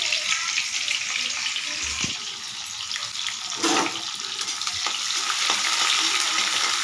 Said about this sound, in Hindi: थोड़ा सा पका लेंगे प्याज को, उसके बाद इसमें डालेंगे कटहल।